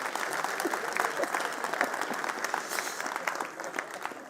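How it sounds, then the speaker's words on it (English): A forum audience in Soweto applauds a panel at a central-bank event, producing steady, dense clapping from a moderately sized crowd that continues evenly for several seconds. "Can we give our panel a round of applause?"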